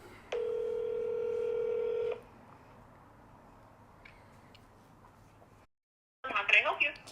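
A telephone gives a single steady dial-type tone for about two seconds, then quiet line hiss, a brief silence, and a burst of a voice answering at the end.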